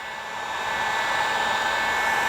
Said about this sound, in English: Sorry if this heat gun's a little bit loud.